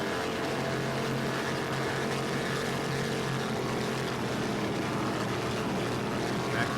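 Racing powerboat engines drone steadily at the Battle on the Bay offshore race in Patchogue, New York, a continuous loud high-revving roar with no pauses and no voices.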